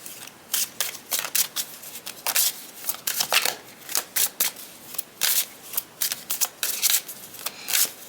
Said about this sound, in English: And I'm going to pull 4 cards for each person, okay?